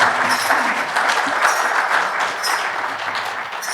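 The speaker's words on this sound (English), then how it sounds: "round of applause for song number 2" Steady audience applause after a storytelling song performed at a symposium, a dense, continuous clatter of many hands clapping at moderate distance, easing slightly toward the end.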